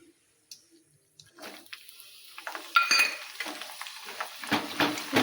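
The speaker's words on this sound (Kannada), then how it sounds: "ಸ್ವಲ್ಪ ಫ್ರೈ ಮಾಡ್ತೀನಿ ತಿರುಗಾಡ್ದಿಂದ" Green chillies and grated coconut frying and being stirred in a pan for festival avalakki chuda, with a sizzling hiss and repeated scraping of a spoon against the pan, growing louder after a quiet start, with no talk.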